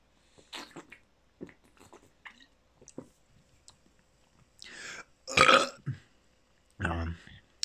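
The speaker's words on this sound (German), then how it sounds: "Nein, hat auch den Rülpstest nicht bestanden." A loud burp after drinking a hemp superfood drink, preceded by scattered small mouth and swallowing sounds and quiet rustles, with a later voiced vocal outburst near the end.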